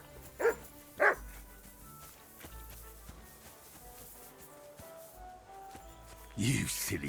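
A dog barks twice in quick succession in a Kingdom Come: Deliverance II game scene, fairly close, followed by low background ambience and a brief rustle near the end.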